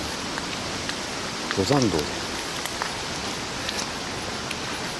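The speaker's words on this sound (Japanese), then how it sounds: "いやー雨でね大変ですよね。" Steady rain falls on a mountain trail after a typhoon, a continuous broadband hiss of drops, with a person briefly speaking over it near the middle.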